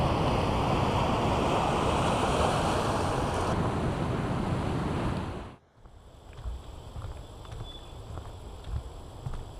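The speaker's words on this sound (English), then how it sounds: "Salado Beach on the north coast of New South Wales." Surf rolls in at Salado Beach on the north coast of New South Wales, a loud, steady wash of breaking waves that drops away abruptly and gives way to a quieter, uneven rush of water and wind.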